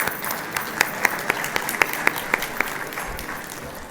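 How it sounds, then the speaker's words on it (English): A gala audience's round of applause at an awards dinner, broad crowd clapping with a few sharp, evenly spaced louder claps standing out near the microphone before fading. "Please join me in giving them another round of applause"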